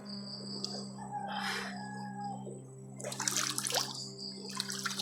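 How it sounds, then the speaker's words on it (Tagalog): Water splashes and pours in a few bursts as someone bathes outdoors at night, set against a steady chorus of crickets and a low hum. "maligo muna"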